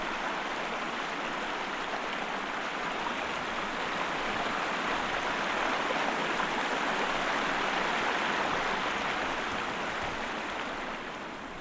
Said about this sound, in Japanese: 水の音がすごい。